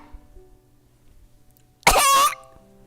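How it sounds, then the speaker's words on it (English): A single loud throat clearing, a voice giving one short rasping burst after a quiet pause, close and alone. "Clear my throat."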